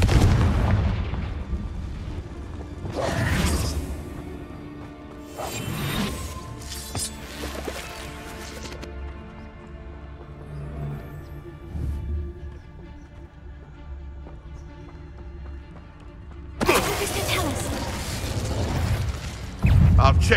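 Blasting Confringo spells in Hogwarts Legacy set off several loud explosive bursts and booms, spaced irregularly, with a big blast near the end over a steady musical and ambient game background.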